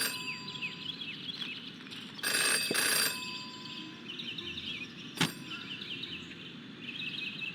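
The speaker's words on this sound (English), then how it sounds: "Jenny had learned never to ignore a ringing phone." A telephone rings in the video game Jenny LeClue, heard as a couple of bright bursts of ringing over soft ambient game music with chirping tones.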